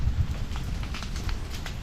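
Steady, rushing wind noise buffets the microphone throughout on a farm, with a low rumble and scattered faint rustling, no voices.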